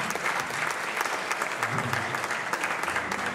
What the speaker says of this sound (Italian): allora facciamo un grosso applauso al papà